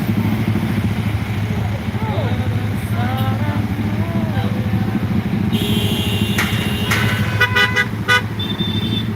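A traffic jam at Bulak Kapal, Bekasi, with a steady close rumble of car and motorcycle engines and repeated horn toots, several clustered honks near the end, under faint voices.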